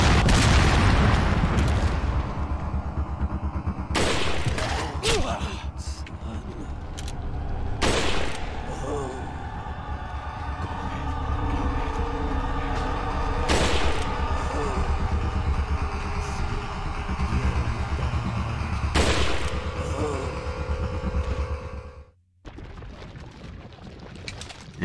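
Rockets firing and exploding in the Resident Evil 4 video game, heard as loud blasts and rumbling booms over a dense, continuous bed of game noise, with sharp bursts scattered throughout before a brief drop near the end.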